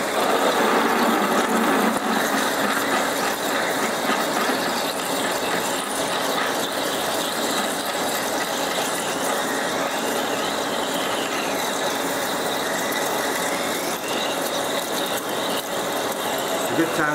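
Large drill bit boring into metal on a machine with coolant applied, a steady, continuous grinding and whirring hum that holds for the whole stretch, close and fairly loud, with some talk underneath.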